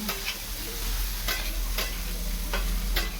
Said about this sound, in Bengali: এরকম ভাবে কষিয়ে নেবো।